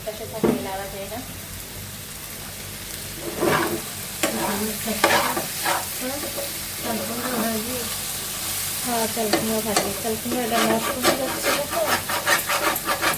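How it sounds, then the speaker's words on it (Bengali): A spatula scrapes and stirs a vegetable fry in a wok in a home kitchen, in repeated bursts over a steady background sizzle. "উল্টো ভাজিটা একটু লাড়া লাগবে"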